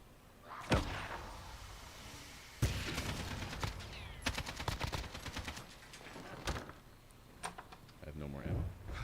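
Video game gunfire breaks out in sharp bursts and single shots, some rapid like a machine gun, scattered across a busy scene with voices talking underneath.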